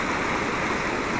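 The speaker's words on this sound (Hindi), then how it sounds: "वो झरने वाला एरिया है" Steady broadband rush of water from a waterfall near a Rishikesh ghat, continuous and close, with no clear breaks across the short moment.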